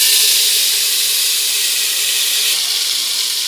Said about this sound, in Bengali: তেলটা আমার গরম হয়ে যাচ্ছে, এখন তেজপাতা, এলাচ, দারচিনি দিয়ে দিচ্ছি।